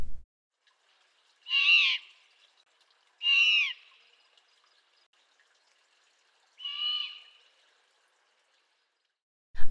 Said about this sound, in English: the male's hooting is a deeper pitch and the female's is higher